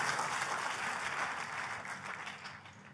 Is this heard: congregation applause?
yes